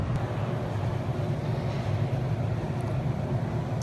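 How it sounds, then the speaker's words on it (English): A steady low rumble of a passing train at a railroad museum in Baltimore rolls on continuously, moderately loud, with no voices. "Another train."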